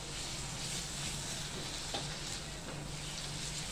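Onion and tomatoes fry in a ghee tempering in a pan for dal palak, a steady close sizzle with faint stirring scrapes throughout.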